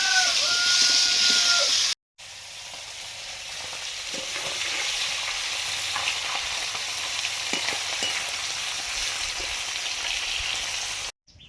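Salted, turmeric-dusted pumpkin and papaya frying together in a pan, a steady close sizzle with occasional soft stirring scrapes, broken by a brief cut near the start, with faint fowl calls in the background.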